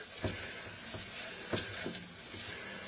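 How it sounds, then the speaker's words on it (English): A thick flour paste for pork enchiladas sizzles in a pan under steady stirring, a constant hiss broken by a few soft scrapes of the spoon, close and fairly quiet. "So we're stirring it"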